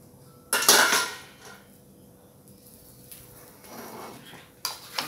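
Chicken rice being scooped into a pot in a rustic home kitchen, heard as a sharp burst of metal utensil clatter against the pot, then quieter scraping and a final clink.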